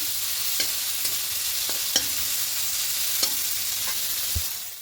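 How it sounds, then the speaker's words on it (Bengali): Prawns frying in mustard oil in a wok, a loud continuous hiss of hot oil with a few sharp spatters and clicks, close and without speech. "হালকা একটু ভেজে নেব"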